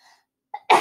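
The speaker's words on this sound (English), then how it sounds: "I have to sneeze." One sharp, close sneeze bursts out loudly at the end after a faint breathy lead-in, with no talking over it.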